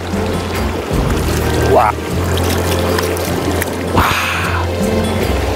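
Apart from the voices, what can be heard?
hand splashing in cold mountain stream water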